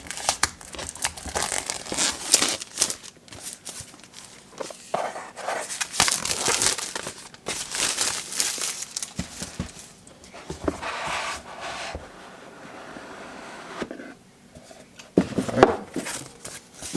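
Packaging for a Shargeek Storm 2 power bank crinkles and tears in close, uneven bursts of rustling and ripping, with brief quiet pauses, and no talking.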